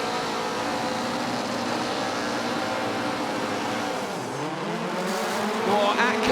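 Rallycross race car engines rev loudly in unison as a pack launches from the grid at a Nitro Rallycross race, a commentator talking over the steady roar.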